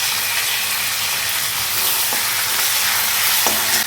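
Curry leaves hiss and crackle in hot oil with fenugreek seeds, cumin and fennel, a loud continuous sizzle with a few sharper pops.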